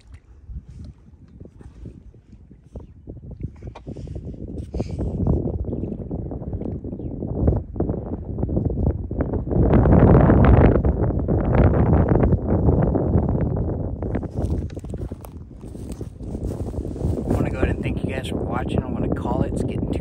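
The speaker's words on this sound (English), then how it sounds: "It's getting too windy out here" Strong wind gusting outdoors by the water on a fishing outing, roaring against the microphone in uneven surges, loudest midway, with a voice speaking under the buffeting.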